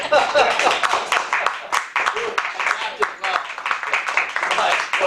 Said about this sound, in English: a nice round of applause for these brave individuals who have agreed to be on my panel